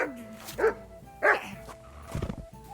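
A dog in the Kingdom Come Deliverance 2 video game barks in a few sharp, separate bursts, fairly close, followed by a scuffling yelp, over a faint steady game tone.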